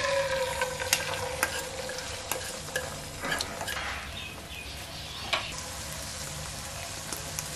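Egg frying in hot cooking oil in a wok for Chinese fried rice, a steady loud sizzle with frequent sharp spatula scrapes and clinks as it is stirred, close up.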